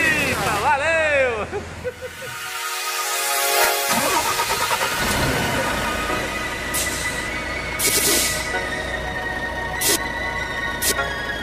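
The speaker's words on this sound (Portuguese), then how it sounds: "Acelera o carro, motorista." A Volvo NH 380 truck engine cranks and starts, then settles into a steady diesel idle with a few revs, loud and close, with people talking over it.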